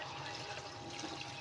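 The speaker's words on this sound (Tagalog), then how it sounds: "lagyan natin siya ng tubig." Water poured into a cooking pot of chicken being prepared, a steady, continuous splashing rush heard close up with no talking.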